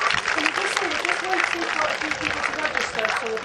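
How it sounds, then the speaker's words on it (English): A crowd claps continuously, dense and sustained, with a voice talking over it. "give yourselves a big round of applause"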